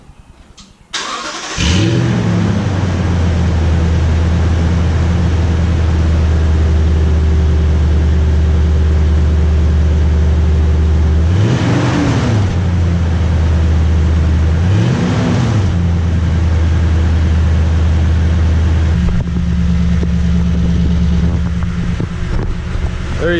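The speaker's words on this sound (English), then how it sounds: "there's a start up, a few revs for you." A Toyota Tundra with an installed TRD exhaust cranks and starts near the tailpipe, settling into a loud, deep idle broken by two quick throttle revs that rise and fall, then drops to a lower idle.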